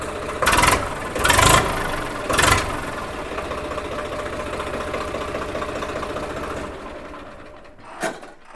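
A 2019 Swaraj tractor engine cranks on its self-starter in a few loud bursts, then settles into a steady, chugging idle that fades toward the end.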